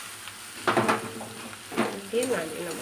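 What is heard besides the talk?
greens frying in a pan with onion and garlic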